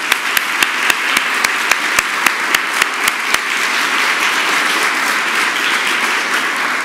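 Audience applause at the 2019 IMLS National Medals Ceremony: sharp, evenly spaced claps stand out at first, then blend into a steady, sustained wash of crowd clapping that carries on to the end.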